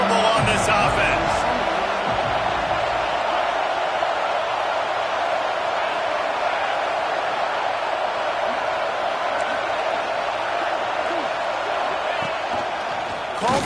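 A packed stadium crowd at an Oklahoma vs Washington college football game roars steadily and loudly on a fourth down, a dense, unbroken wall of noise with an announcer's voice faintly over it.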